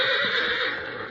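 A horse neighs loudly and close by in a Western radio drama, one sustained whinny filling about a second with no talk over it.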